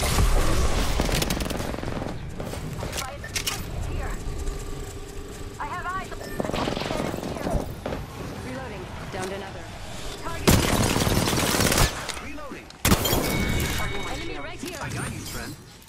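Video game gunfire crackles in repeated bursts and rapid volleys through a long firefight, mixed with other in-game action and steady talk from players.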